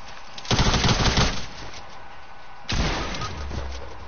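Two loud bursts of infantry-weapon gunfire in a video game, each a rapid rattling volley with a lingering tail, the second following after a short pause.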